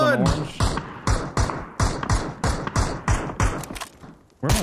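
Rapid gunshots in the video game PUBG, a regular string of sharp thumping bursts about three per second, heard alongside players talking over each other.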